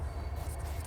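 A train rumbles past outside, a steady low roar with some higher hiss, continuous and fairly loud throughout with no talking.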